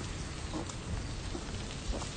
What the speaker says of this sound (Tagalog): Ambon-ambon na lang.